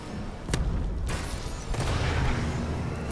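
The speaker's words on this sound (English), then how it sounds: "Friendly missile strikes inbound." Missile strike explosions in Call of Duty: Advanced Warfare, several heavy booming blasts a second or so apart over a dense, rumbling battle din.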